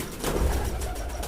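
A golden pigeon gives soft, low coos, a few brief throaty calls heard close and fairly quiet.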